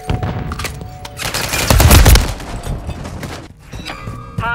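Sustained automatic gunfire rattles through a Call of Duty Modern Warfare III multiplayer match, with loud, dense bursts and heavy thumps peaking midway before easing into scattered shots.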